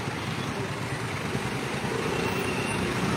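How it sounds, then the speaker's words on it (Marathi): Road traffic, including trucks, flows steadily through a junction on a route toward Panaji, making a constant broadband roar and low engine rumble with no distinct pauses. "दुसऱ्या मार्गावरून ती वाहतूक येते।"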